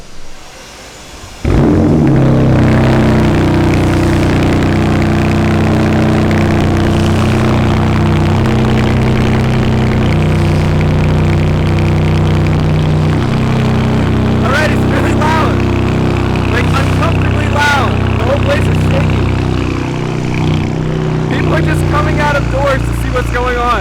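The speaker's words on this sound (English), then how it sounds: "Dane's gonna do a cold start on my car with this new exhaust on." A BMW F80 M3 with a freshly fitted straight-piped exhaust fires up from cold, a sudden loud roar settling into a steady, deep, rumbling idle that holds close and strong to the end, with voices talking briefly over it.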